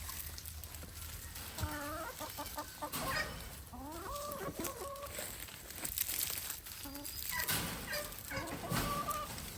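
A white rooster clucks in a backyard flock at feeding time, a series of faint, nearby clucks and short calls in several bursts over soft background rustling.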